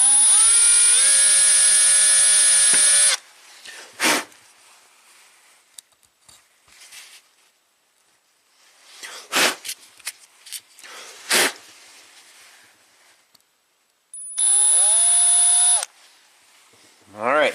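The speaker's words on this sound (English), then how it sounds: "this is so old school, drilling jets" A drill bores out the carburetor jets of a 1975 International 574 tractor, its steady whine rising as it spins up in two loud bursts, one at the start and one near the end, with quiet handling noises and scattered talk between.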